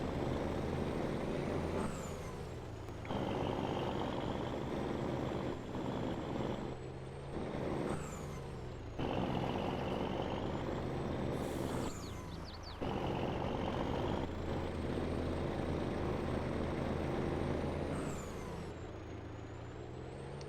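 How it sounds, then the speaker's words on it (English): A truck pulling a trailer drives through Farming Simulator 22, its engine a steady, loud drone with hissing air-brake bursts and short beeps breaking in every few seconds, with no talking. "Let's get this truck and trailer combo up"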